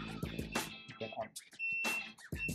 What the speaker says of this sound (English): Lock it. Slot the meter and never on. The alarm is set.